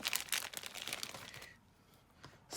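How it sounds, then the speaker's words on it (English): Small plastic freebie bag from a scrapbooking supply shop handled while making Christmas cards, close crinkling and rustling bursts that fade into quiet before a final crinkle. "I think I need a small plastic bag though. So let me use my freebie bag"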